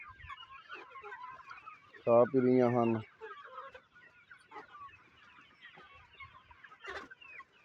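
Free-range desi chickens clucking outdoors, with one loud rising call standing out among softer scattered clucks, while someone talks throughout.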